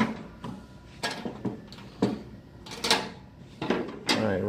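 A small toolbox drawer slides open and shut repeatedly, with several sharp metallic clacks and scraping runs spread unevenly across a few seconds, loud and close, with no voices.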